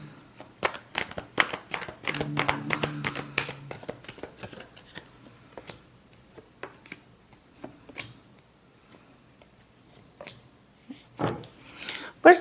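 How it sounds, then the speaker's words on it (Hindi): Tarot cards being shuffled, a rapid series of close crisp riffles and flicks, busy at first and then thinning to scattered taps, alone without talk. "Last shuffle."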